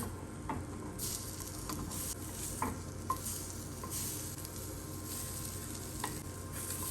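Slices of French toast frying in a large pan, giving a quiet, even sizzle close by with a few small clicks and taps, and no voices.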